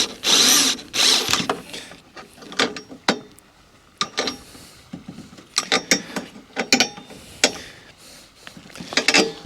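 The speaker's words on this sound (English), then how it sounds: "We're gonna put that nut there. Now I've got my universal plumber's wrench here" A universal plumber's wrench tightens a nut while a two-person seat is fitted to an Afikim mobility scooter, making close, loud bursts of ratcheting clicks in irregular runs.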